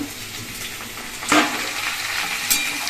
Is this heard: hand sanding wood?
no